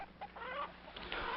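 Chickens cluck in a rural farmyard setting, a short burst of several close, moderately loud clucks with a rising squawk near the end.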